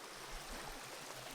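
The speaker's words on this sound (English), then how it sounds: "Water is extremely noisy, if you haven't learned that by now." Stream water flowing along the Van Hook Falls trail in Daniel Boone National Forest, a close, steady, loud hissing rush of running water with no voices.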